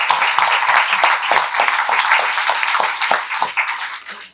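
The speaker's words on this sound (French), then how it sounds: "Alors Marielle, on va t'applaudir, ton équipe aussi." Audience at an opening address for a colorectal cancer awareness event applauding the organizer and her team, a full, continuous burst of clapping that holds steady, then tapers off at the end.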